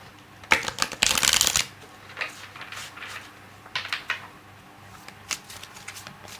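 Oracle cards being shuffled close by, with a burst of riffling followed by softer intermittent card slaps and shuffles in a quiet room.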